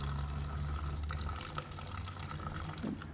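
Water drains from a car's blow off valve, a continuous close splashing and trickling with a low rumbling hum underneath and occasional small drips.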